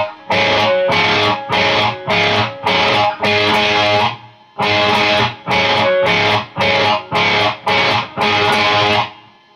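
Distorted electric guitar plays the intro riff, loud and close, in choppy repeated strummed bursts with brief gaps between phrases and no talking.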